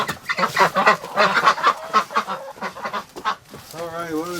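Ducks quack loudly and repeatedly in a close, busy chorus on a farm in winter frost conditions, with a rough honking call near the end.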